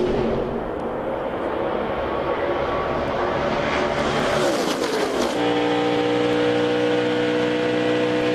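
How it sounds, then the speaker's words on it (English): NASCAR race cars roaring side by side at a restart during the 2012 Drive4COPD 300, the loud engine howl rising in pitch as the pack accelerates, then sweeping past and settling into a steady high drone. "Side by side for the restart, Tony Stewart in the blue car, Kurt Busch in the black and white one"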